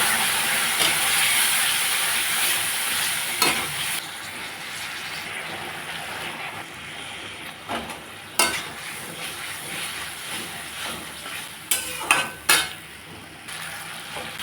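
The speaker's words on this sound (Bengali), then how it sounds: "মশলাটাও ভাজা ভাজা হয়ে গেছে।" Spice paste of turmeric, chili and salt fries in a pan with a steady, loud hissing sizzle that eases partway through, punctuated by occasional sharp scrapes and knocks of a spatula against the metal.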